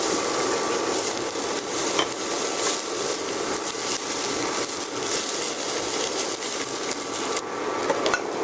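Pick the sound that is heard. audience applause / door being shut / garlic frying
garlic frying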